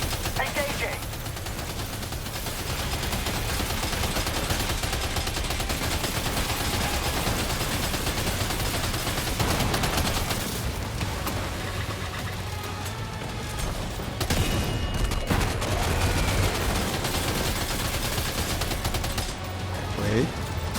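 Machine-gun fire in Death Stranding 2, dense sustained bursts of rapid shots under a game soundtrack and effects, loud and continuous with brief breaks.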